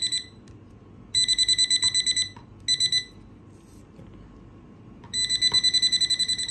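A Nokta Accpoint metal detector gives bursts of rapid high-pitched electronic beeping that start and stop several times over a low background rumble, with no one talking.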